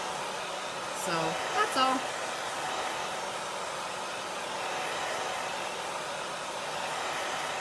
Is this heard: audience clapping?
no